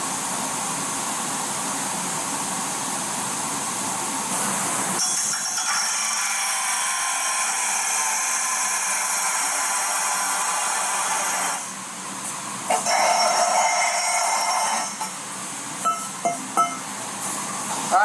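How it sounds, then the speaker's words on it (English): An angle grinder works a metal downbar for an engine bay on a 1966 GMC, with a steady hissing whine that runs for about eleven seconds, stops briefly, then comes back in short bursts. "I gotta grind it some more"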